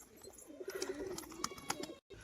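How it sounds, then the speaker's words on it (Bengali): Domestic pigeons kept for sale give a soft, faint cooing phrase, a short rolling coo over quiet background rustle with a few light knocks. "ভিডিওর মধ্যে সব পায়রাই খেলছে"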